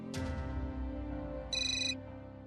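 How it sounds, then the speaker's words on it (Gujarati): A phone ringtone rings for an incoming call from an unknown number, a steady tonal melody that carries on throughout with a brighter burst of high chiming notes near the end. "કોઈ અનનોન નંબર ઉપરથી ફોન છે"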